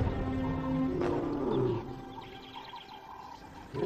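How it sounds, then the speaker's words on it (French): Lions in a wild reserve roar in a deep, drawn-out call that swells over the first two seconds and then trails into a quieter rumbling tail, heard from a middle distance without speech. "elle les entend rugir pour signaler leur position"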